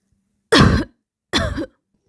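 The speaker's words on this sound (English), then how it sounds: "She is coughing a lot." Two harsh coughs, close and loud, separated by a short pause in otherwise quiet surroundings.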